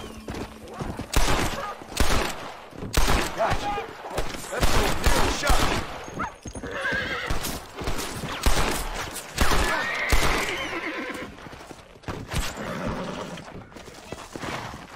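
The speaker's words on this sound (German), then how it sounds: "Und wer schießt hier aber generell auf mich?" Gunfire and galloping horses in the video game Red Dead Redemption, with repeated loud shot bursts, hoofbeats and whinnies, while someone talks over the action.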